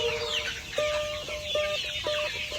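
An aggressive, defensive hen guarding partridge eggs clucks in a rapid series of sharp, repeated calls, close and loud.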